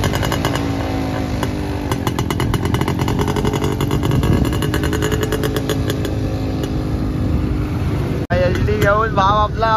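A motorcycle engine runs close by with a loud, rough, rapidly pulsing exhaust that revs and wavers in pitch, a brief dropout near the end, and voices faintly mixed in.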